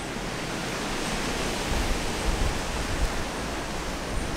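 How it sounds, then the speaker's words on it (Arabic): Strong wind blows outdoors around a house in New Zealand. A steady, loud broadband rush with slight gusting swells carries on throughout, with no talk. "صوت الهواء رهيب"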